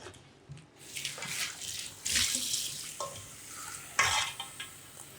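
Running tap water pours into a cooking pot during preparation of achi soup, a steady splashing flow that swells and eases in bursts with clinks and stirring sounds, close by and fairly loud, with no talk.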